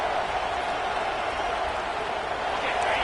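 A stadium crowd in a Madden football video game keeps up a constant, even roar, broad and unbroken throughout, with no distinct cheers standing out.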